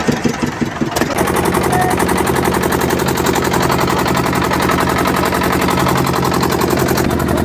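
The engine of a ferry boat leaving the landing clatters loudly up close as a steady, rapid mechanical chugging after a brief rougher start, continuing for several seconds with no talking.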